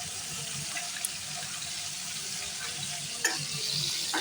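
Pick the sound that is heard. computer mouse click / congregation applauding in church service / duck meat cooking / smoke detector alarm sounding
duck meat cooking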